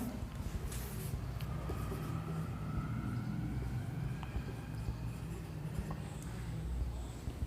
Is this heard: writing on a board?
yes